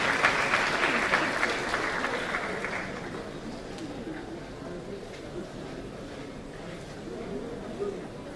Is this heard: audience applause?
yes